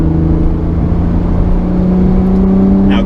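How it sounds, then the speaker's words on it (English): Engine of a manual-transmission car drones steadily at close range while gears are shifted, a loud, constant hum with slight shifts in pitch and no talk. "Now you give it more gas, clutch all the way in, down to second, back on the gas as you let off, clutch in, now into third gear"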